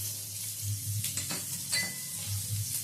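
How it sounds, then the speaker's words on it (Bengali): Onion petals frying in butter and oil in a pan, a steady close sizzle with a few scraping stirs partway through. "পাপড়িগুলো ছাড়িয়ে নিয়েছি এটা হালকা করে ভেজে নেবো"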